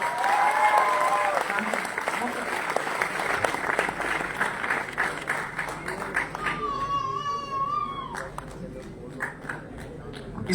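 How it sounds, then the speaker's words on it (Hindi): A seminar audience at ITO, Delhi claps loudly and steadily as a crowd, dense applause filling the room, with talk over it and the clapping thinning out toward the end. "शिव कुमार जी, अभी पहले इतने लोगों को जोरदार ताली होनी चाहिए एवरीवन"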